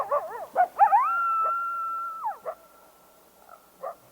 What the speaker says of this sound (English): High above the den, the small pack barks at a mountain lion.